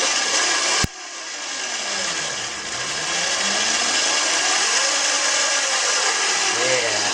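A Razor E200 electric scooter motor whirring as its newly installed variable throttle is twisted, a steady high whine that rises and falls in pitch, following a sharp click.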